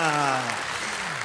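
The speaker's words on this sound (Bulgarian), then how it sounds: "Аплодисменти за момчетата," Concert audience applause at a live 2019 show, a crowd clapping steadily while a voice talks over the start before fading out beneath the clapping.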